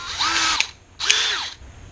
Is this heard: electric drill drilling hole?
yes